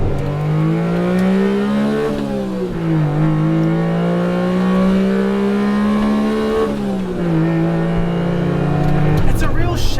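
A Honda mid-engine car's engine hums loudly and steadily from behind the cabin, its pitch rising and falling as revs change, sustained throughout at close range.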